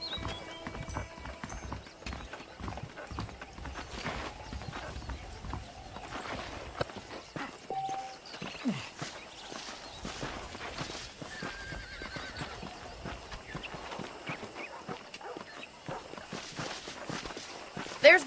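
Horse hooves clip-clop steadily at a walking pace in the Western game Red Dead Redemption, with occasional whinnies and neighs over a quiet outdoor ambience, while someone talks throughout.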